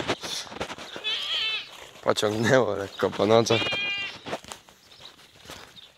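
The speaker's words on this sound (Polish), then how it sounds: "to idziemy do kózek" Goats on a farm bleating in several wavering calls, close and loud, mixed with a person speaking between and over the cries during morning chores.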